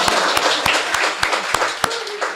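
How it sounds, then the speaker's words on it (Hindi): Loud clapping from an audience at a Hindi poetry recital, a dense wash of many hands with a few sharp, distinct claps standing out in a steady burst. "सन्नाटे के लिए जरा एक बार जोरदार ताली।"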